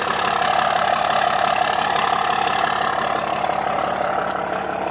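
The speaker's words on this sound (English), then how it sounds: "Figured I'd let y'all hear the truck run for a little bit." A Dodge Megacab dually pickup with a 6.7 Cummins diesel and turbo-back exhaust idles steadily close by, a deep, even rumble with a fine rhythmic knock that holds unchanged for about five seconds.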